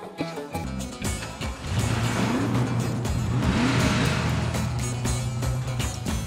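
A car engine revs hard and stays loud, its pitch climbing and wavering through a sustained roar that fills most of the stretch, with a quieter, choppier start before it settles.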